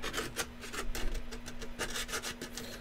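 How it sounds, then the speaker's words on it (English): Hand sanding through thick paint on a blaster build, a close, rough rasping scrape in repeated back-and-forth strokes with a faint steady hum underneath. "One of the most frustrating parts about sanding is getting rid of this stupid paint."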